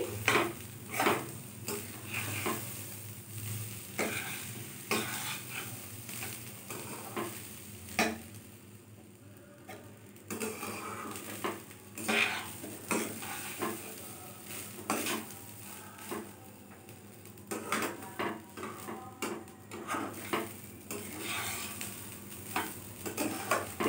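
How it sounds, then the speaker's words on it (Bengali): Rice lightly frying in a pan for cherry pulao, with a soft continuous sizzle and repeated clinks and scrapes of a spoon stirring against the metal, close up and fairly quiet. "চালটাকে আমি একটু হালকা ভেজে নিচ্ছি।"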